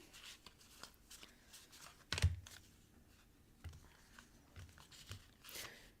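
A deck of cards being shuffled by hand, faint soft riffling and papery clicks in short bursts, close and quiet with no talking.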